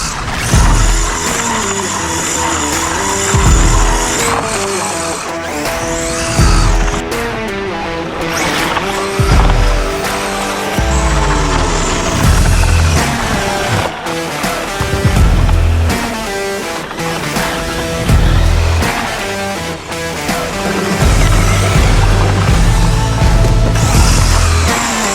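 A Traxxas XO-1 RC car drives and slides around, its high-pitched motor whine and squealing tires loud and continuous throughout, rising and falling as it accelerates and skids.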